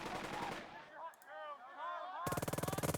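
Gunfire in the World War II strategy game Burden of Command: a burst of shots, then a pause with a whooshing tone, then a rapid rhythmic volley of automatic fire at the end.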